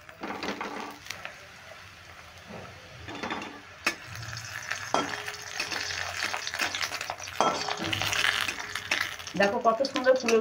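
Stuffed cauliflower paratha fries in oil in a kadai, a soft sizzle under scraping and tapping of the spatula, with someone talking over it between spells of cooking.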